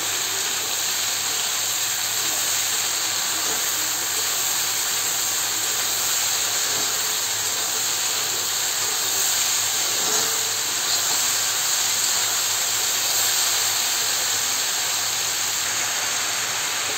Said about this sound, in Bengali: তারপর ভালো করে নাড়িয়ে দিব।